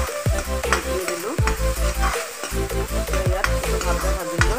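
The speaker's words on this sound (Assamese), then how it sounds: "আদা নহৰু এইখিনি ভজা হৈ গ'ল।" Ginger, garlic and chillies fry in hot oil in a pan, a steady loud sizzle broken by repeated scraping strokes of a spatula as they are stirred.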